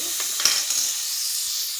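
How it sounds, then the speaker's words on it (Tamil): Chopped onions sautéing in a hot pan with fennel seeds, a steady close sizzle and hiss with a few soft stirring scrapes, no voices. "வெங்காயத்தை போட்டு வதக்கிட்டு"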